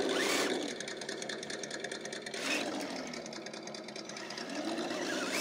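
A 1970s Chevrolet square-body truck's engine works hard on a muddy course, a rapid rattling drone that swells and drops as the throttle rises and falls, fairly close and unbroken by talk.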